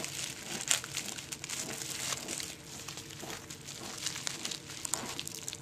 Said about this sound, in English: cut it out of the bubble wrap finally